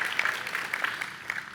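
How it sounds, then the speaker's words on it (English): A graduation audience applauds the graduate's parents during a 2018 commencement at Emory, with steady, moderately loud clapping from a crowd that spreads evenly throughout, with no talking over it. "You can clap for my parents,"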